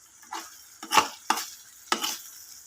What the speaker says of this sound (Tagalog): Ayan, halu-haluin lang natin.